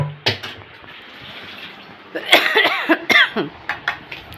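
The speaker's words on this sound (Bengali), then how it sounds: "একটু দেখছি হালকা হালকা কাশি হয়েছে" Light coughing from an adult with a mild cold indoors at home, a single cough followed by a cluster of several short close coughs, with some faint water noise in the background.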